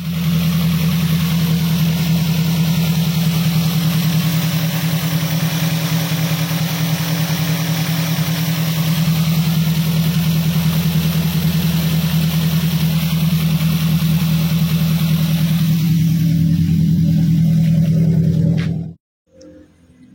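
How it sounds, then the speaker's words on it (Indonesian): A car engine, just repaired after an oil leak, runs at a loud, steady idle close by for most of the stretch before being shut off abruptly near the end. "coba kita hidupkan mesin mobilnya"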